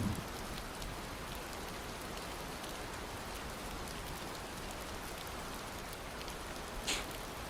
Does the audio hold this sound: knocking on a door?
no